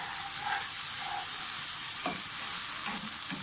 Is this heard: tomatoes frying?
yes